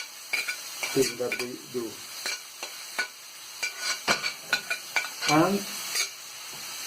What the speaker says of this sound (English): we're going to put the chopped onion in it